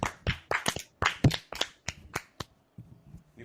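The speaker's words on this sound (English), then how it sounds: "Claps for Eckler." Sharp hand claps in a quick irregular burst, a dozen or so crisp close smacks that thin out toward the end, heard alone without talk.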